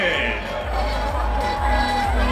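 An audience at the QQ Music Peak Awards ceremony cheers and applauds in a steady, dense roar of crowd noise that fills the whole stretch without a break.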